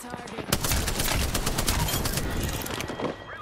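Sustained automatic gunfire from an Apex Legends match, a dense rapid burst of shots starting after a brief pause and continuing loud and close for about three seconds, with faint voice underneath.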